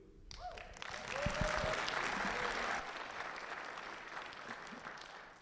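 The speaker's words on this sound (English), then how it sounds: "I'm going to have to ask the audience to please hold your applause." An audience bursts into applause at a Republican gubernatorial debate in Elko, Nevada. The clapping is fairly quiet and roomy, builds over the first second, holds, then thins out and tails off toward the end, with a brief voice near the start.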